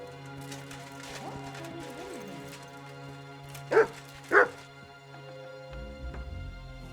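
Two short, loud dog barks from a dog in the medieval game Kingdom Come: Deliverance II, over a steady ambient game drone with a low rumble near the end.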